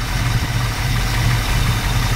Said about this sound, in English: let the car warm up as we check it out. The motor seems to run pretty good.